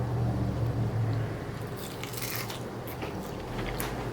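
A close, crisp bite into crunchy battered fried pickles served with sriracha mayo, with a burst of crackling crunch followed by softer chewing, heard alone without talk.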